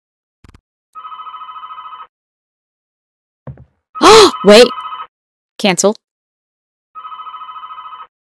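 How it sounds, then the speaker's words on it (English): A telephone rings in the indie horror game RITUAL, two bursts of trilling electronic rings separated by a pause, while a person gasps, sighs and speaks in between. "Answer the darn phone, it's ruining the atmosphere."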